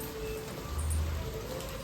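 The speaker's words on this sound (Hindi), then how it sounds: "देखिए कितनी तेज़ बारिश आ रही है" Heavy rain pours down in a dense, steady hiss, with a brief low rumble partway through.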